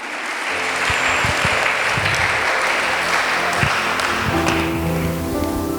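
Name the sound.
congregation applause at a sermon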